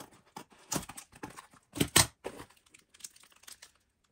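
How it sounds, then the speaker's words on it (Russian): Parcel packaging that holds pelargonium plants, with foil wrapped inside, cut open with scissors: scattered crinkling, tearing and snipping sounds in irregular bursts, loudest in the middle, close up and with no talk. "Ножницами быстрее."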